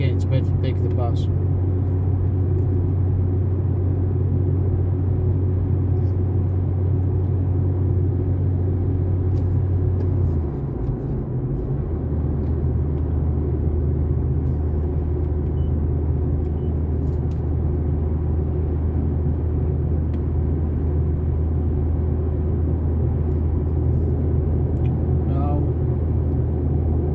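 A Mazda 3 cruises along a Greek highway between Volos and Glyfa, its cabin filled with a steady low engine and road rumble that shifts slightly partway through, continuous and unbroken by speech.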